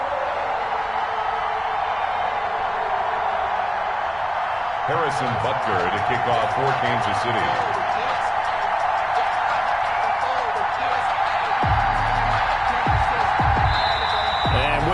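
Stadium crowd noise from an NFL video game on PS4, a Kansas City kickoff against the New England Patriots, rumbling steadily throughout beneath a commentator's continuous play-by-play talk.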